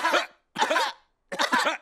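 Three short voiced coughs from cartoon adults in an Italian Peppa Pig episode, each a distinct burst separated by brief silences, close and clear with no talk.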